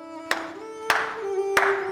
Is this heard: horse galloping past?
no